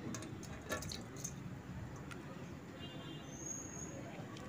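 Water splashes and drips softly as lips are rinsed at a sink, faint and close, with small wet patters scattered through a quiet background.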